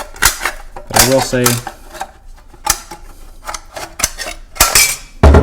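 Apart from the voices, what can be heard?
cutting zip hinge metal with tin snips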